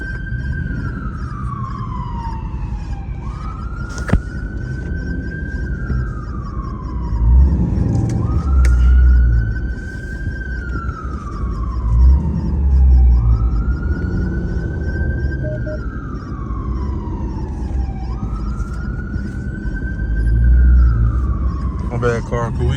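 A police patrol car siren in traffic, loud and near, wailing up and down in long repeating sweeps over a steady traffic rumble while people talk.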